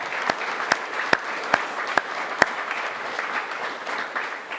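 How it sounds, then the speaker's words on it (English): At an award presentation day, an audience claps in a steady, evenly spaced rhythm of sharp, distinct hand claps over a soft room murmur. The claps stop after a few seconds and the murmur continues. "Let's give her a clap"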